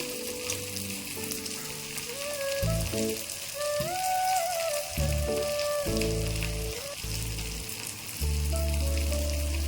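Fish curry with raw mango bubbling in a pot, a loud, continuous sizzling and bubbling boil close by, with some tonal hum from the stove running underneath throughout.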